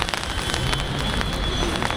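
Rain falling steadily on water and surfaces during a pedal-boat ride in the mountains at Manali, a dense close hiss with scattered patters, no voices.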